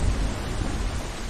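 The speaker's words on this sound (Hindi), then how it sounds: "उसी दिन शाम को तेज बारिश फिर से शुरू हो गई।" Heavy rain pours in a steady roar with deep rumbling thunder underneath, a dense, loud storm sound effect for a story with no voices.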